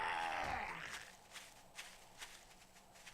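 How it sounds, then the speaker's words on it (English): Zombie footsteps in 7 Days to Die thud faintly and unevenly at a distance after a loud sweeping sound fades out, a handful of soft, irregular steps in an otherwise quiet space. "I hear footsteps, but I don't see anything."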